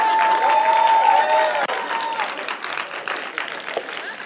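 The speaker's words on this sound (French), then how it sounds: "Vous êtes en retard dans vos applaudissements," Applause from a church congregation during a pastor's sermon, a dense wash of clapping that is loud at first and then thins and tapers over a few seconds, with faint voices mixed in.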